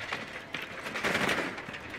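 Rapid bursts of video game gunfire, sharp crackling shots repeating quickly over about two seconds at moderate loudness.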